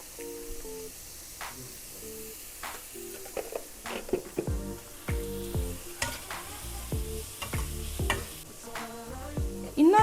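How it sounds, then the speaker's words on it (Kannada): Sliced onions frying with salt in a pan, a steady sizzle with repeated scraping and stirring strokes of a spoon, close and without talk. "ಈಗ ನಾನು ಸ್ವಲ್ಪ ಈರುಳ್ಳಿ ಫ್ರೈ ಆಗೋಕ್ಕೆ ಉಪ್ಪು ಹಾಕ್ತಾ ಇದ್ದೀನಿ."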